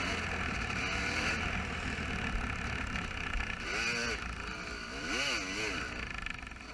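A 450cc motocross dirt bike races in an open event, its engine droning loudly and steadily up close, with a couple of sharp revving swells as it passes another rider.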